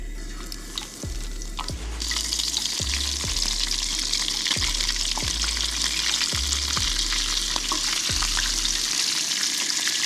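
Razor clams fry in hot oil, a loud dense bubbling sizzle that swells brighter after a couple of seconds and holds steady, with low repeated thumps from movement in the pan beneath it.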